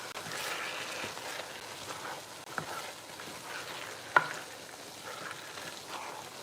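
A pot of homemade soup or stew being stirred, a steady soft scraping and bubbling texture with one sharp utensil knock against the pot midway, close and moderately quiet with no talk.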